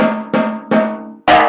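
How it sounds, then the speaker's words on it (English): Four sharp drum strikes from a snare with its snares switched off, each ringing with a clear, pitched, tom-like or timbale-like tone that decays quickly; the first three are evenly spaced and the fourth is brighter. "It sounds like a really high tom or almost like a timbale."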